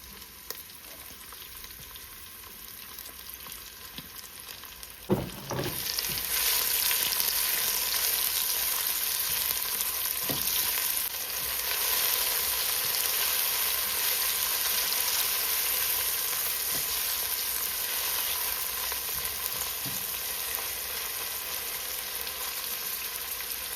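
Garlic and onion hit a hot pan for Jamaican spaghetti and saltfish: a thump, then a loud, sustained sizzle that stays strong and steady through the rest of the clip.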